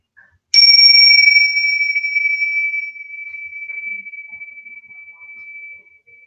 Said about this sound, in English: I'm just gonna ring the bells and kind of bring us into presence